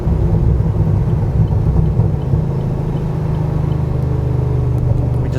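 A supercharged V8 in a 2010 Camaro SS accelerating in fourth gear gives a loud, steady low rumble that holds strong for the whole stretch, heard from inside the car with no talking.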